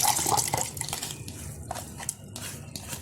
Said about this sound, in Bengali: দিয়ে একটা নিয়ে নিলাম মিক্সিং জার, এর মধ্যে ঢেলে দিচ্ছি এটা